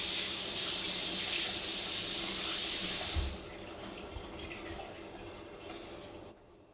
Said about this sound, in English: I'm going to go wash my hands while this cooks.